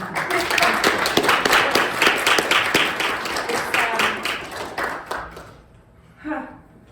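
Audience clapping at the close of a higher-education panel event, a dense run of handclaps lasting several seconds, then thinning out and fading, with a brief voice near the end.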